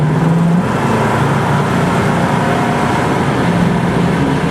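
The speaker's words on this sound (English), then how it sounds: "So we're going to hit passing gear here and show you the kind of power that it does have." A 1965 Ford Mustang with a 289 V8 and power steering, in good condition, pulls hard in passing gear, its steady loud engine drone filling the cabin with no talk over it.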